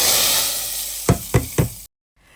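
Garlic tempering (tadka) sizzles hard in hot oil for dal, a loud, steady hiss broken by three sharp knocks of a utensil before the sound cuts off abruptly.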